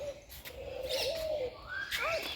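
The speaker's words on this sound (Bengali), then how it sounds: "এইটা কবুতর" Pigeons cooing at a zoo in Dhaka, Bangladesh: soft, low coos drift over a faint outdoor background, joined by a few higher chirps from other birds near the end.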